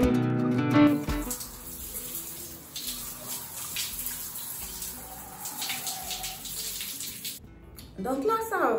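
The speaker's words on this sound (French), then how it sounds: "Donc là, je vais rincer pour commencer." Running water streams steadily from a shower or tap while shampoo is rinsed out of hair, a continuous close gush with a brief louder splash at the start and again near the end.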